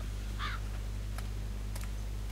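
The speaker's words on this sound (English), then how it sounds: "I heard a crow." A crow caws once in the video game The Park, a brief harsh call early on over a steady low ambient hum, with faint clicks later.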